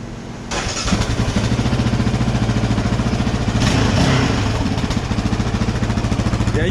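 A motorcycle engine with a rattling muffler fires up and runs at a steady, loud, close idle, its rapid exhaust pulses carrying a buzzy metallic rattle throughout, with no talking.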